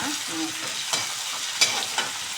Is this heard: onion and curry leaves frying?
yes